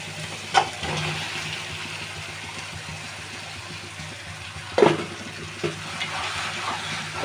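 Duck meat tipped into a pan of spice masala that is already frying, with a steady low sizzle and two or three sharper bursts as the pieces go in.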